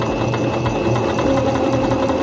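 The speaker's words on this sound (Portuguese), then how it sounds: "Posiciono o tecido na máquina" A Singer C5605 electronic sewing machine stitches fabric in a steady, rapid mechanical whir with an even rhythmic clatter, running continuously without talk.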